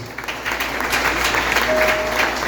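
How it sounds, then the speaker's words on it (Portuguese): A church congregation at a family worship service breaks into steady, dense applause, a continuous wash of many hands clapping at moderate distance, with no speech over it. "Aplauso eterno por isso."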